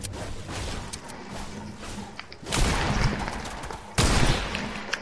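Shotgun blasts in a video game, a couple of loud sharp bursts over a dense, noisy background of gameplay sounds and effects.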